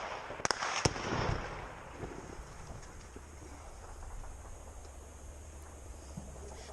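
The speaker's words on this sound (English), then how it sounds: "We can now hear some fire coming in, mostly from the machine gunner in that building" Machine gun fire from a building in the war in Ukraine: a few sharp, distant cracks early on, then a low rumbling background with faint scattered pops.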